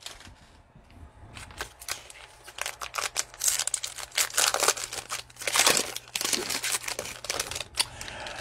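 Crinkling and snipping of a cellophane wrapper around a 2020-21 Prizm NBA basketball card pack, sharp close crackles and cuts in uneven bursts, no talking.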